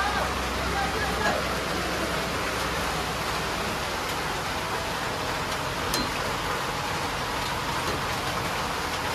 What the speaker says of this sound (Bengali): এই দেখো দারুণ বৃষ্টি পড়ছে